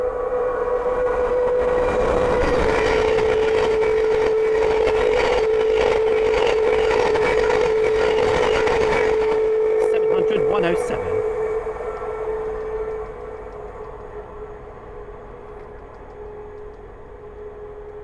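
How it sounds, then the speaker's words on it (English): A Thameslink Class 700 train from Horsham to Peterborough passes at Sandy on the East Coast Main Line: a loud, broad rush of rail noise with a steady tonal whine that fades over the last several seconds as it recedes, under occasional talk. "the next train to pass by is a Thameslink 700 from Horsham to Peterborough"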